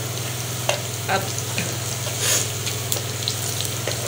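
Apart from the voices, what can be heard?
tadka (spice tempering) frying for chana dal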